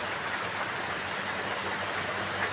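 Heavy rain in Bungoy, Dolores, Quezon pours steadily, a dense hiss of drops drumming close by without a break.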